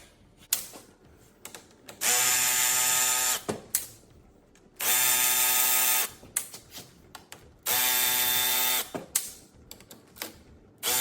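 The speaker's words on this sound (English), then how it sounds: "thanks for my son for leaving his brand new Milwaukee ratchet with me" A brand-new Milwaukee power ratchet runs in three sustained bursts of about two seconds each, loud and close, with quieter clicks and handling noises between them during a teardown of a Slant 6 TorqueFlite transmission from a Chrysler VC Valiant.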